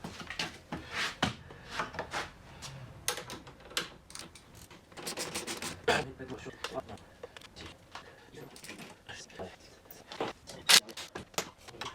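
Tools at work removing the exhaust from a Triumph motorcycle, scattered metallic clinks, ratchet clicks and knocks at irregular intervals, close but fairly quiet, with a person talking at times.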